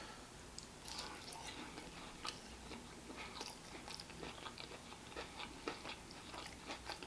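Close, quiet chewing of crunchy fried boneless chicken wings glazed in whiskey sauce with sesame seeds, with irregular crisp crunches and wet mouth sounds repeating throughout and no speech.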